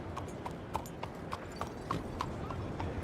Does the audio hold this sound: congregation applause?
no